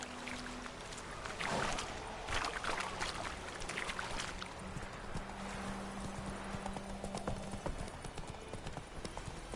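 Clip-clopping hoofbeats of the horse Roach in the video game The Witcher 3, a steady trotting rhythm of hard hoof strikes that continues throughout at moderate level, with low ambient game sounds behind.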